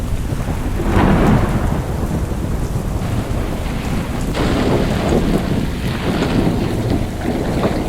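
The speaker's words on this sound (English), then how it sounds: "Definitely still raining out there." Steady heavy rain pours down on a sailboat off northern Costa Rica, with rumbling thunder and gusts of wind buffeting the microphone throughout.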